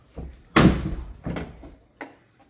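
Door on an 86 Monte Carlo SS methanol race car being handled, a sharp loud slam-like clunk followed by two lighter knocks and rattles, close by with no talking.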